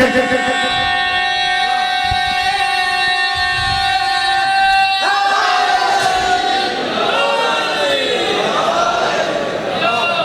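A large crowd at a religious gathering chants slogans in loud sustained unison, the voices rising and merging into a dense roar that shifts partway through.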